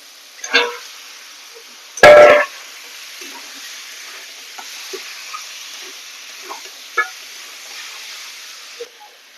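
Drained chicken pieces go into a hot frying pan with a sharp burst of sizzling, then settle into a faint, steady hiss with occasional small clinks.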